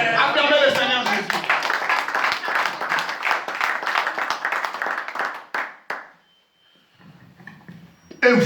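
Church congregation clapping and cheering in acclamation of the Lord Jesus, a dense, sustained burst of applause mixed with voices that fades out, followed by quiet murmuring.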